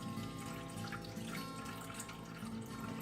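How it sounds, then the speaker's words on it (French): Water pours steadily into a container while soap is being made, a continuous close splashing stream with a tap-like rush lasting throughout and no talk over it. "Alors, je verse mon eau."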